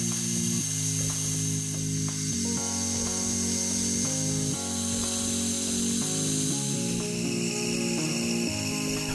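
A metal lathe turns a small metal pin to an accurate diameter, giving a continuous close mechanical whir with shifting tonal hum and occasional scraping changes in pitch as the cut proceeds.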